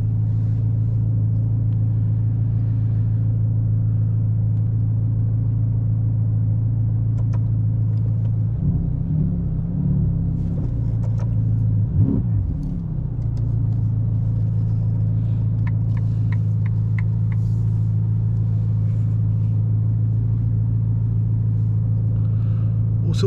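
A 2021 Ferrari Roma on a night drive holds a steady low engine rumble inside the cabin for a long stretch, rising briefly with a couple of small surges, with no talk.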